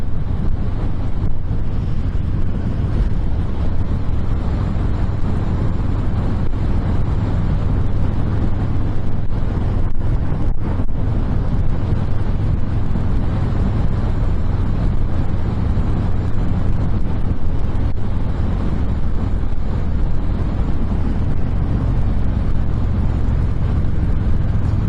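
2020 Harley-Davidson Softail Fat Boy 114 motorcycle being ridden, a loud, steady low engine rumble mixed with heavy wind buffeting on the microphone, continuous throughout with no talk.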